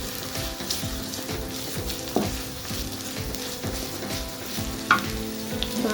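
Curry leaves and green chilies fry in hot oil over high flame, a steady close sizzle and crackle with a few sharp pops and occasional stirring scrapes, no talk.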